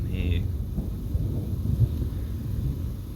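Low thunder from an approaching lightning storm rumbles continuously and fairly close, with rolling low swells, while a brief voice is heard near the start.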